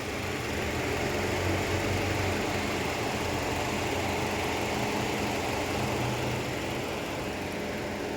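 A used Hyundai Kona's engine and cooling fan run steadily at idle, a continuous low hum and whir that holds even for the whole stretch with no talking.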